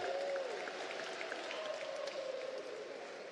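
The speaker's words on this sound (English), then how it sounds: "I knew they would get a cheer." Crowd at the closing ceremony of the Virtus Oceania Asia Games 2022 cheering and applauding, a steady wash of claps and distant voices, fairly faint and sustained.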